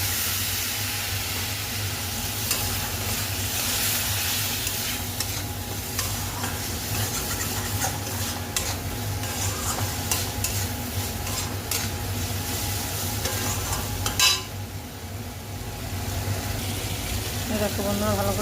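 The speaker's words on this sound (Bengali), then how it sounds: "ভালো করে কষিয়ে নিচ্ছি" Rice is fried and stirred with a fish head in a pan, making a continuous close sizzle and hiss with scraping stir strokes that runs without a break throughout.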